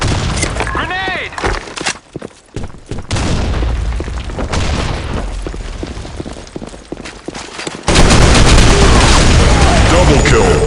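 Explosions and rapid gunfire in the video game Insurgency: Sandstorm, dense and loud throughout, with a heavy blast near the end and voices shouting over the combat.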